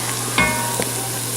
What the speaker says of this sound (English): We're gonna saute our onions until they are translucent